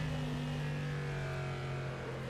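A GTE race car engine in rFactor 2 holds a steady, loud drone with a strong low hum, continuous and close, with faint tyre noise beneath and no gaps.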